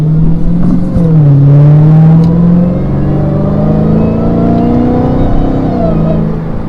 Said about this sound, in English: the best feature about the Hellcat is the whine